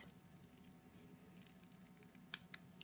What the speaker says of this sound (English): I'm just doing it with scissors